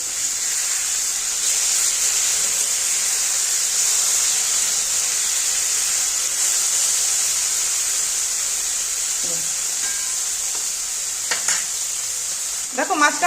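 Boroli fish sizzling in hot oil in a kadai after being turned, a constant loud frying hiss with a few soft clinks and scrapes of stirring near the end.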